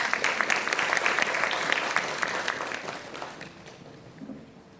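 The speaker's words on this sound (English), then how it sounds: "Please give her a round of applause." An audience at a mushroom summit in a New Delhi hospital hall applauds a speaker with brisk, dense clapping. It starts fairly loud and gradually thins and fades toward the end.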